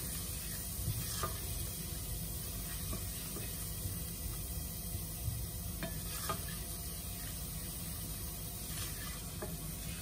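Fennel seeds roasting in a pan while ratatouille with pork chop is being made: a steady close sizzle runs the whole time, with scattered light pops and the occasional scrape of stirring, and no voices.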